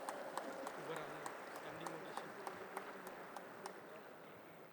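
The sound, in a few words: audience applause for dignitaries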